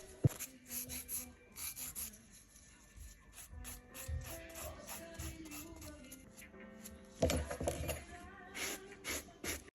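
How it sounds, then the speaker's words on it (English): A natural fingernail is buffed and filed ahead of a gel refill, giving soft, quiet rasping strokes in short repeated bursts with faint clicks and handling noises. "gently buffing and preparing the natural nail for the new application"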